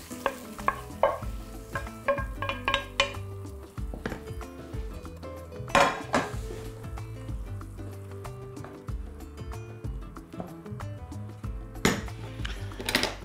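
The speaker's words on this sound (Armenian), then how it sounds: "Ալյուրը տապակելուց հետո սա տեղափոխում ենք կաթսայի մեջ։" Fried flour for mushroom soup is moved into a cooking pot, heard as close scraping and knocking of a utensil against metal with sharp clanks and a soft sizzle beneath.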